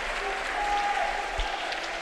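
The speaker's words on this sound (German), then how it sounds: "Wir hören ein paar Buhrufe." A crowd at a boxing bout at the 2019 German Championships reacts to the points decision with sustained, mid-distance noise, a steady wash of mixed voices filling the arena under a faint tone.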